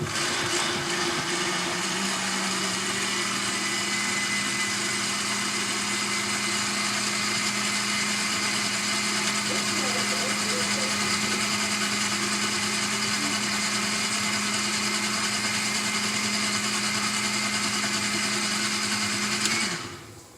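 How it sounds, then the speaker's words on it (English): A blender whirs steadily for about twenty seconds as it purees a jerk seasoning marinade, a loud, even drone that cuts off abruptly at the end. "I'm gonna try it in the blender instead"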